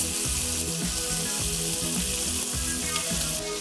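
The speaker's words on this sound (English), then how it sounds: "We're gonna go in with our onions." Onions sizzling and frying in a pan for a pork fry, a steady dense hiss with the pan's rhythmic stirring pulses underneath, close and continuous with no talk.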